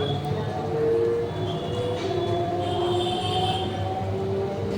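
A train rolls steadily out of Subhashgram station, a continuous low rumble with faint tonal whines from the cars, moderately loud and close, with no speech over it.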